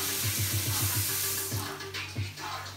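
Cold water runs from a kitchen tap in a steady, soft hiss over a low hum, tapering off toward the end.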